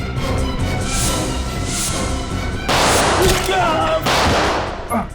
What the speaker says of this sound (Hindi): बाहर गोली चलने की आवाज